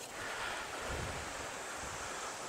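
Sea surf at a Baltic shore beside old ruined coastal bunkers, a steady distant wash of waves with a soft rushing roar and light wind, no voices.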